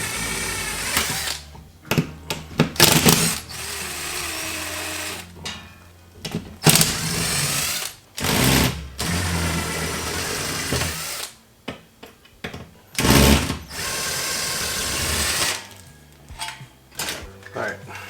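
Power driver sinking 3-inch screws at an angle into a wooden wall stud, in several loud whirring bursts of a few seconds each, separated by pauses with some talking in between.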